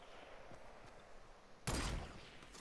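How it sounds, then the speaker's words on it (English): Gunfire in the Fortnite video game: a sudden loud burst of shots that starts partway through and keeps rattling to the end, after a quieter stretch of background game noise. "Oh, he's shooting at you, Ed."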